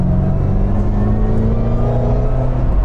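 The supercharged engine of a 2008 Ford Mustang GT500 pulls under acceleration: a loud, continuous close-up rumble with a thin whine layered over it, unbroken for about three seconds and free of speech.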